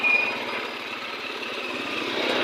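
A motorcycle engine runs on the road with a steady, throbbing rumble for a couple of seconds, fairly close and loud, with no talking.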